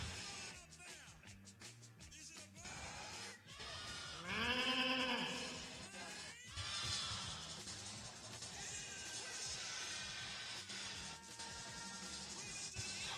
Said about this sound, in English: we're bringing the sheep back